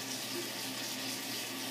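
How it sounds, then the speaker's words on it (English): Tap water runs in a steady, moderately quiet stream from a faucet while a dog drinks from it, an even continuous rush with no voices. "Just the water from the tap."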